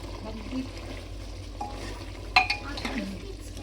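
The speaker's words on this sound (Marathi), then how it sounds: "चवीनुसार मीठ घालून घ्या। छान असं थोडंसं मिक्स करून घ्या।" Village chicken is stirred with salt in a pot, giving soft scraping and a few clinks of a spoon against metal over a low sizzle.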